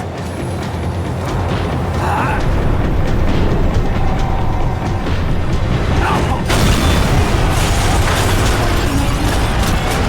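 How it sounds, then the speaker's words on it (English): A tram in the video game Max Payne 3 rumbles and clatters along, its grinding roar swelling and dipping with occasional heavy thuds and metallic screeches as it slows. "The tram was slowing down."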